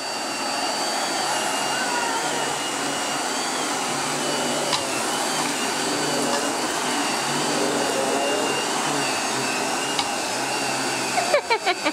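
A vacuum cleaner runs steadily and loudly throughout with a constant whine, ending in a few brief knocks.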